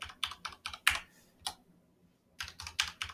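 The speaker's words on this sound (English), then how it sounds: "Let me just make sure I type this in right." Keys on a computer keyboard are tapped in two quick clusters of crisp, close clicks, entering a PIN, with a short pause between the bursts and no talking.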